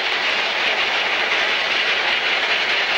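A train runs along a railway line close by, giving a loud, continuous rumbling roar with a hissing edge that holds steady throughout, with no one speaking.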